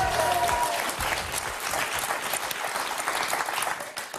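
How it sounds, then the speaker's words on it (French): Studio audience applause on a French game show, a continuous even wash of clapping that sounds artificial and uniform, moderately loud with no voices. "on dirait des faux applaudissements"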